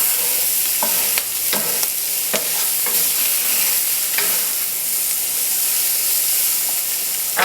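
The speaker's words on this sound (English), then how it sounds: "at this point, your pan is very hot, so keep tossing and stirring" Garlic and spices, including smoky sweet paprika, fry in a very hot pan for a Spanish chickpea stew with a loud continuous sizzle and hiss. Repeated clanks of tossing and stirring cut through it.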